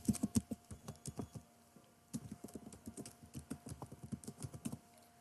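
Rapid keystrokes on a computer keyboard while an email address is entered, a quick, close, irregular patter of clicks with a brief pause partway through.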